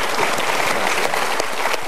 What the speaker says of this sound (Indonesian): Kita berikan tepuk tangan untuk Mas Noval dan juga Mas Ajis.